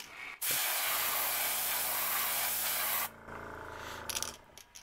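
An airbrush loaded with too much paint sprays onto a fishing lure in a loud, steady hiss lasting about three seconds, cutting off abruptly and followed by quieter hissy handling noises.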